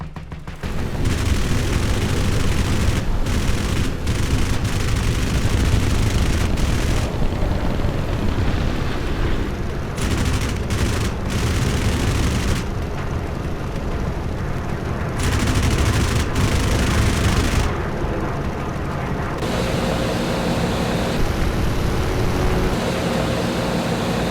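P-47 Thunderbolt .50 caliber machine guns firing in WW2 strafing footage, a continuous loud roaring burst of gunfire with brief dips, dense and unbroken for over twenty seconds.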